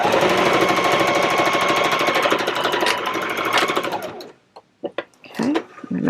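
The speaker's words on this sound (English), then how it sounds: "now we're going to just sew across there" A sewing machine runs fast and steady across a bag for about four seconds, then stops, followed by a few brief clicks and handling sounds.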